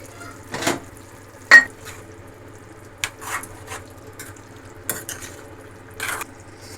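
Chicken frying in a pan with turmeric, a low sizzle under a handful of separate scraping and clanking stirs of a spoon against the pan, close, with no talk.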